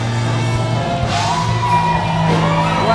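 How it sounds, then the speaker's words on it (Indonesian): A crowd at an Indonesian TV show prize giving in Ancol cheers and shouts, loud and continuous with whoops and yells over background music. "Kita berikan tepuk tangan buat Ancol."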